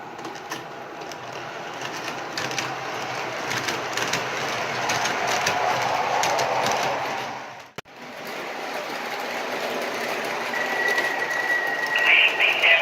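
MTH Premier R32 D train model subway set running, a steady mechanical whirring and rattling rumble with a brief dropout midway, then a high electronic tone joins near the end.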